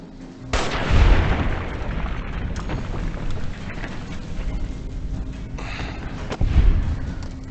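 Gunfire in Fallout New Vegas, fired with a fully skilled firearm: a few sharp, loud shots with heavy low booms, spaced several seconds apart, between quieter mechanical clatter and game noise.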